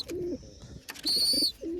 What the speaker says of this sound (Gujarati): અહીંયા કબૂતર બેઠા છે આની અંદર બીજું પણ એક છે